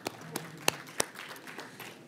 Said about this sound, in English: Please join me in giving Lisa a warm hand of applause